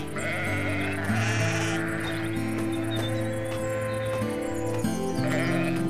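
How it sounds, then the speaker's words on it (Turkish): A lamb bleats in a pastoral outdoor scene, its short cries sitting over sustained background music that runs throughout. "Anne bak, ne kadar güzel bir kuzu değil mi?"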